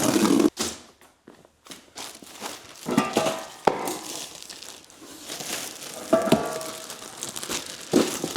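Styrofoam handled in a new workspace, giving bursts of squeaky crinkling and crunching, close and moderately loud, spread across the clip with short pauses between handling sounds.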